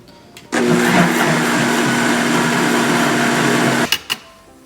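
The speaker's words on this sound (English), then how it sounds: "I'm just gonna blend this until it's all combined" An electric blender whirs loudly and steadily for about three seconds, blending a flour mixture for beef wellington, then cuts off with a couple of brief clunks.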